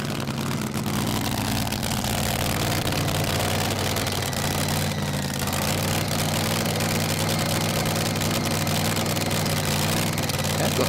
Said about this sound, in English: You get to see the Shackleton racing car.